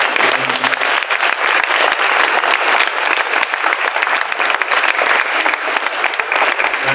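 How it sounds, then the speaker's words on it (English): Loud, sustained applause from a standing crowd at an outdoor community project gathering in Salem, Oregon, dense rapid clapping close by that continues unbroken throughout, with a few voices faintly mixed in at the start. "Can we have another round of applause?"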